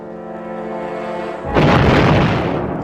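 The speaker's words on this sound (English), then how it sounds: "Although the explosion failed to penetrate the thick armor, the cupola stopped moving." A hollow charge explosive detonates on top of a thick armored gun cupola. A loud, close boom bursts in suddenly after a steady droning tone and then rumbles on to the end.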